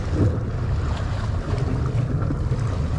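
Waves from a passing ship rock a small fishing boat at sea, a dense continuous wash of water and wind buffeting the microphone, loud and close with no talk.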